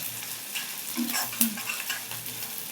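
Onion and dried red chilies frying in an oiled iron wok, a steady crackling sizzle with a few louder pops and scrapes of stirring, close and continuous with no talking.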